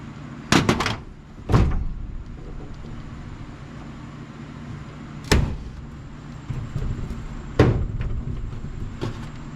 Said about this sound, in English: But the door won't slam shut on me anymore.